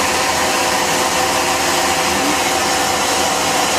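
KSI SQC-38 CNC Swiss-type lathe spindle turning at 1000 RPM, belt driving the synchronous rotary guide bushing, heard from about six inches away: a steady, loud, dense whirring hum with broadband mechanical noise, unchanging throughout.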